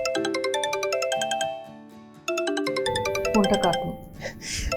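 A mobile phone rings with a loud, repeating electronic ringtone melody, briefly dipping before resuming, with a rougher burst of noise layered over its last seconds.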